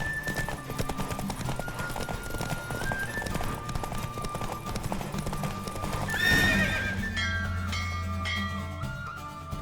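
Horse hooves clip-clop in a steady galloping rhythm during a race in The Witcher 3, with a clear neigh and whinny partway through over game music, loud and close.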